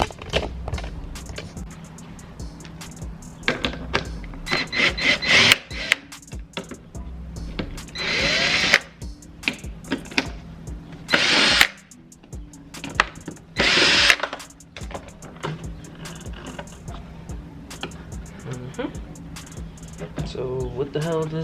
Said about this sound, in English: I just made my own makeshift like gun to like unscrew everything